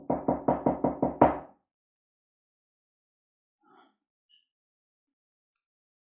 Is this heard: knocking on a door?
yes